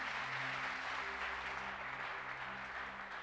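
A church congregation at a Sunday service applauds to acclaim the Lord, a steady, dense wash of clapping throughout with low musical tones sustained underneath.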